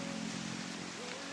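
Rain falling outdoors, a steady, dense hiss of drops heard close and filling the brief moment, with a faint tonal hum underneath.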